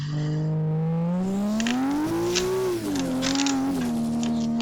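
The engine of a Toyota Altezza in the Assetto Corsa racing game holds high revs against its rev limiter, with a loud, sustained drone that rises and dips in pitch. Faint tyre and gear noises sit underneath, and no one speaks.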